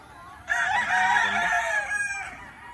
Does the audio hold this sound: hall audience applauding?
no